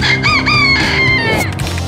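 A chicken crows and clucks loudly and close by in a coop, with a rising, warbling call repeating over a couple of seconds and no voices.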